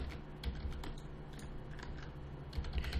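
Computer keyboard keys pressed during a Photoshop tutorial: a steady run of soft, faint clicks with a few slightly louder taps near the start and end, over a low background hum.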